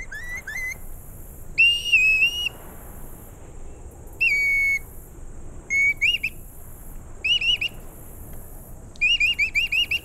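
A former hunter whistles imitations of water bird calls to lure birds toward a net, sharp clear whistled chirps in separate bursts and rapid trills, close and loud with pauses between phrases.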